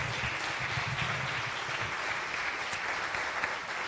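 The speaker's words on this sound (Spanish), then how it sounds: "Un aplauso para el panel y un aplauso para ustedes" Sustained applause from an audience at a panel session of a world forum on low-carbon cities, a dense, steady wash of clapping throughout with no voices on top.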